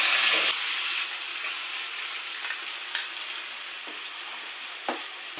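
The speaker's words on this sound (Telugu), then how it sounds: "ఎల్లుల్లిపాయ ముద్ద వేసుకోవాలండి." Ginger-garlic paste fries in hot oil in a pan for a fish curry, a steady loud sizzle throughout, with a brief burst at the start as the paste goes in and occasional soft stirring taps.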